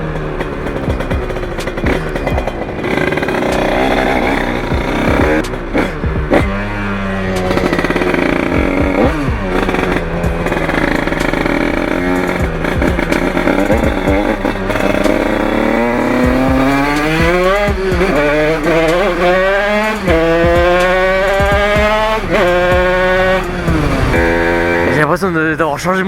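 A Bidalot 88 Factory motorcycle engine revs hard and close, its pitch rising and falling through sustained roaring sweeps, with sharp exhaust pops crackling between revs.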